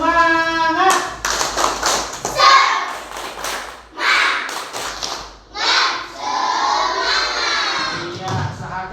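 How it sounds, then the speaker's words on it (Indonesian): Group of children doing tepuk semangat, a rhythmic spirit clap chant in a classroom, with bursts of patterned clapping mixed with loud chanted voices in short phrases, close and lively throughout. "Tepuk semangat."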